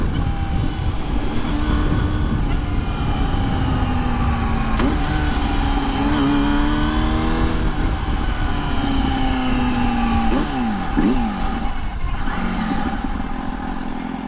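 A Yamaha R6 sport bike with bent handlebars and a fuel problem, ridden at speed, its engine droning loud and steady with rising and falling rev sweeps and sharp throttle blips, plus constant wind rush.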